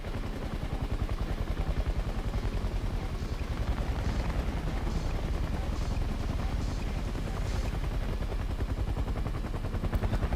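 A Vietnam-era helicopter in the War Thunder video game thumps with fast, steady rotor chop under continuous rattling gunfire and rumbling blasts, a loud dense battle din with no talking.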